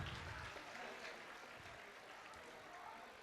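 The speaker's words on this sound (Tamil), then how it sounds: "கைத்தட்டுங்க உற்சாகமா" Applause from an audience at a Thai Pongal prize-giving ceremony at a church, a steady, fairly faint wash of clapping lasting a few seconds, with a voice speaking over it.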